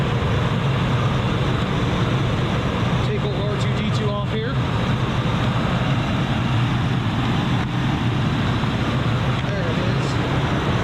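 A mint 1994 Lincoln Town Car's 4.6-liter Ford modular V8 idles outdoors with a steady, quiet low hum, while someone speaks briefly over it.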